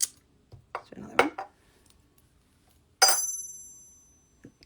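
Pennies dropped into a metal-matrix étui case give a bright clink with a long bell-like ring that decays slowly, after a few earlier clattering knocks and clinks close by.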